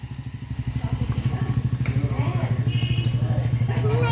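A motorcycle approaching, its engine puttering in a rapid, even pulse that grows steadily louder and closer, with a voice and faint background chatter over it.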